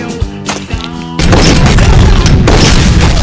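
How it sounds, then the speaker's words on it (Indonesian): Shooting practice in a Jason Statham action film: music gives way to a loud, dense barrage of booming gunfire that continues without a break. "Setelah itu Steve mulai belajar menembak."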